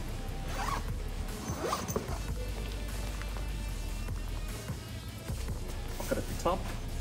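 Zipper on a 5.11 Tactical travel bag compartment being drawn open and shut in repeated short rasping pulls, close by, with rustling nylon fabric and some handling noise throughout.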